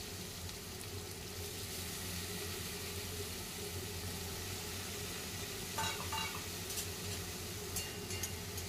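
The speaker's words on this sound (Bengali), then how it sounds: "তেল গরম হয়ে গেলে এর মধ্যে আমি আলুগুলো ছেড়ে দিচ্ছি।" Potatoes sizzle steadily in hot mustard oil, a continuous bubbling hiss with a brief clatter near the end, no voices present.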